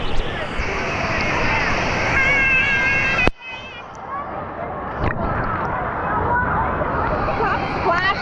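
Water splashes at an indoor water park amid a noisy crowd babble, with constant rushing surf-like noise, a sharp loud splash burst around the middle and people talking throughout.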